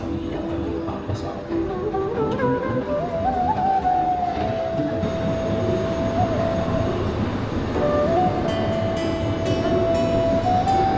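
Small toy train on a theme park track, a steady rumbling run with whistle-like tonal notes, at moderate level with voices in the background.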